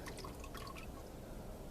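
Motor oil from a 2010 Hyundai drips and trickles into a drip pan during an oil change, a faint, close liquid patter of scattered drops with no talking.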